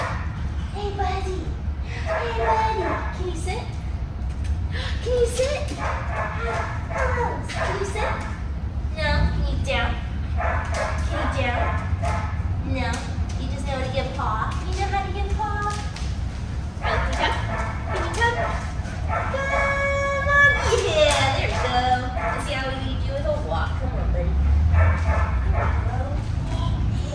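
A Siberian Husky yips, whines and whimpers over and over at close range, a steady stream of high, wavering vocalizations with a person talking alongside.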